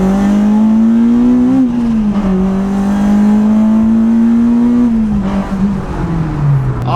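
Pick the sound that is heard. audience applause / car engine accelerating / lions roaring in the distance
car engine accelerating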